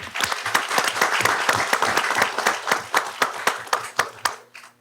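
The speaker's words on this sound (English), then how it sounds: "Let's give them a round of applause." Applause from a small group at a school board meeting, with distinct, rhythmic claps close by that keep going steadily and then stop abruptly.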